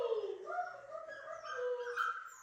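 A puppy whines and yips in high, wavering tones, quiet and close, with no clear sharp barks.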